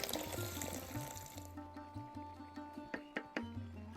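Water poured into a cooking pot, a close gurgling pour at first that thins into soft trickles and a few splashy drips.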